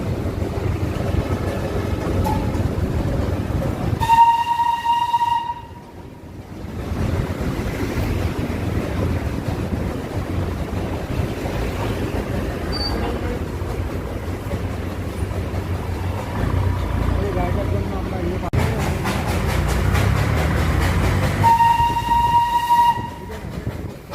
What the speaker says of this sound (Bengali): সামনে ট্রেন চলছে শিলিগুড়ির উদ্দেশ্যে